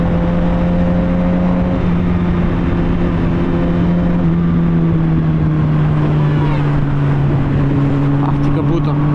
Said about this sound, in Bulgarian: Готино си е да покараш по завойчета.